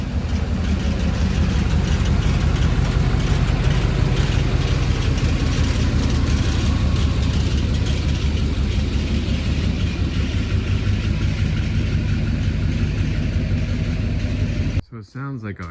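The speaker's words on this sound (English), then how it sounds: "So it sounds like I have a pulley going." A 2006 GM LBZ Duramax diesel truck engine idles loudly and steadily up close, with an intermittent pulley noise in the drone and people talking underneath, before the sound cuts off abruptly.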